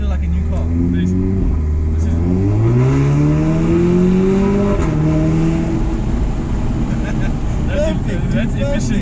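A 2016 Audi S3 Sportback with a Milltek full exhaust and burble tune revs up, engine pitch climbing and falling in a loud, close drone with rising harmonics, while people talk over it inside the car.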